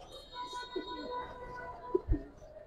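Pigeons coo at a pigeon seller's stall, including a pair of chabra pigeons, with soft low murmuring calls and a couple of brief louder coos near the end amid background chatter.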